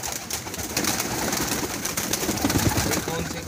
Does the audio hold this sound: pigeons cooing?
yes